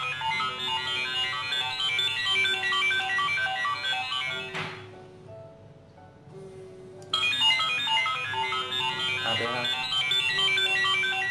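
A phone rings with a melodic ringtone, an incoming call placed by a SIM800A GSM module, repeating steadily, pausing for a few seconds, then resuming, with a brief voice in the background.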